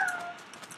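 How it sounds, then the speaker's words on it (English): A pet cat gives a single short meow in the background of a room, faint and over in well under a second. "our cat is back in the background"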